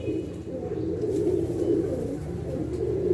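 A close, continuous low cooing from pigeons, a throaty murmur that keeps up without pause, with only a faint hint of voice in the background.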